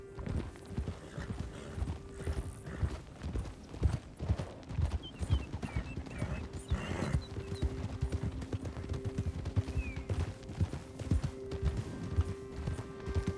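Horse hooves clip-clop in a steady walking rhythm in the video game Red Dead Redemption 2, moderately close, with a brief whinny partway through.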